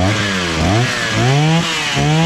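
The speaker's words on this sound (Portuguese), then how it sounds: "Pegou, agora a gente vai acelerar" A 43cc brush cutter's small two-stroke engine, just started after priming the carburetor, revs up and down in loud, rising and falling surges, close by with no talking.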